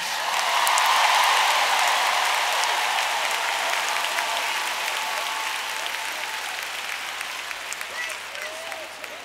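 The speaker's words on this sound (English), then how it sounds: "All the needy people, clap your hands." Church congregation applauding during a sermon: a dense, sustained wash of many hands clapping that swells early and then slowly tapers while staying steady and full.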